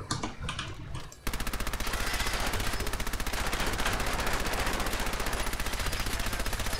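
The Silver Submachine Gun in Fallout 4 fires in one long rapid automatic burst, a fast even stream of sharp cracks emptying the whole magazine after a few brief clicks, loud and close.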